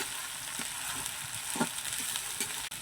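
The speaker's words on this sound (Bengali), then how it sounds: "এইবার রসুন বাটা, ঝাল বাটা, একটু সরিষা বাটা দিয়ে মশলাটা নেড়ে চেড়ে নেব।" Garlic, chili and mustard paste being stirred and fried in a pan, a soft steady sizzle broken by scraping spoon strokes at a fairly even rhythm, close but quiet, with no talk.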